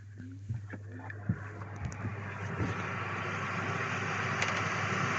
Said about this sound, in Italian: Computer, accendi l'aria condizionata.